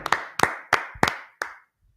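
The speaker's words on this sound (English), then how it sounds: "Let's clap it up for brother and sisterhood." Five sharp, evenly spaced hand claps from a group clapping in unison at a Tuesday brotherhood class at a religious headquarters, close and crisp with short gaps, then silence.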